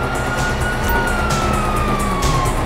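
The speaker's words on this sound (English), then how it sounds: "you hear that? Sirens." Police sirens in the video game Grand Theft Auto V, a loud continuous wailing tone sweeping in pitch over steady traffic and vehicle noise, with no talking.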